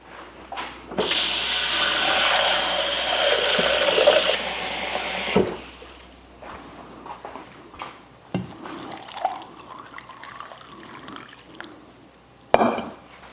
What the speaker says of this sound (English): I'm going to keep adding cool water until all of my pickles are covered